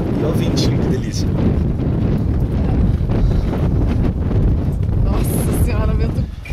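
Hot wind gusting across the salt flats of Badwater Basin in Death Valley, a loud, constant roar buffeting the microphone throughout, with people talking underneath.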